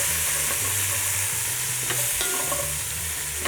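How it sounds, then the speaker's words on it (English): Mushrooms, onion wedges and sliced capsicum sizzle loudly with lamb shoulder in a pan, a continuous close frying hiss broken by the scrape and clatter of stirring, with no talking. "And we'll just saute that."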